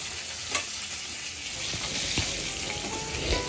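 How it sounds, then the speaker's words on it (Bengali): Crabs frying in hot oil and being turned, a loud dense sizzle and crackle with a few spatula knocks and scrapes, close up and with no voices. "কাঁকড়াটাকে একটু টাইম দিয়ে ভালো করে উল্টে পাল্টে ভেজে নিতে হবে"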